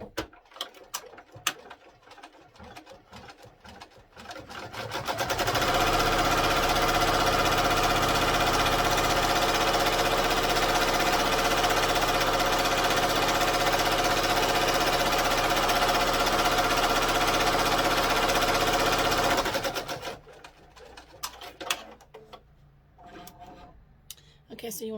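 A computerized embroidery machine stitches a Sus Dude design onto a composition notebook cover, a steady, loud mechanical whir running unbroken for about fifteen seconds, with quieter handling and clicks before and after.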